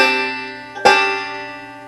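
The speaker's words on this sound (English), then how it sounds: "Here's kickoff number 2." Banjo plays a short Scruggs-style kickoff: a plucked chord rings and decays, then a sharper pluck and a sustained chord ring out alone, close and clear.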